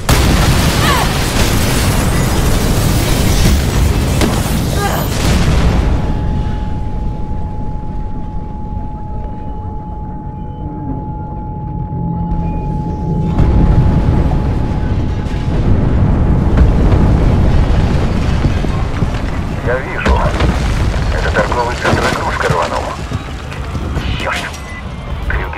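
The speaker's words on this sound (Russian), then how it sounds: "Большой взрыв!" A big explosion in the video game Mirror's Edge Catalyst, a loud sustained roar and rumble that thins out, then swells again with further bursts.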